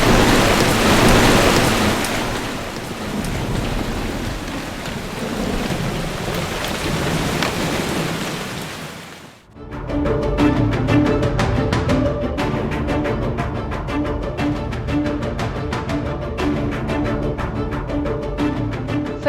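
Heavy rain from Cyclone Fengal pours down in a loud, steady roar, with thunder rumbling through it; after a brief dip the downpour returns as a dense hiss of drops striking surfaces.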